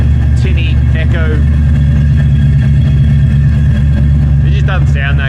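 A Holden VC Commodore with a 308 V8 runs steadily with a thin, tinny exhaust note, a constant low rumble throughout while a person speaks briefly over it near the start and end.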